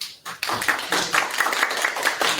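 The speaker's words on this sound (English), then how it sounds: "Let's give a round of applause" Applause from a group at an academic workshop, a dense patter of many hands clapping steadily after a brief quiet start, fairly close and moderately loud.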